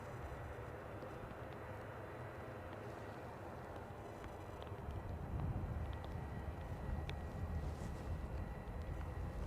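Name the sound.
EasyJet aircraft taxiing out at Edinburgh airport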